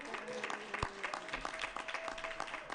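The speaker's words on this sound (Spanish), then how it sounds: "Aplausos, aplausos." Applause ripples through the room at a county commissioners board meeting right after a swearing-in, fairly faint, uneven clapping with a few sharp individual claps standing out.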